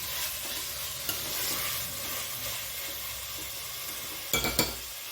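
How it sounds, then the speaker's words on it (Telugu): Vegetables, tomatoes and masala for veg biryani are stirred in a hot pan under a steady sizzle, with a clack of the spoon near the start and a loud scraping knock near the end. "ఒకసారి మొత్తం మసాలా అంతా పట్టేంత వరకు కలుపుకుందాం."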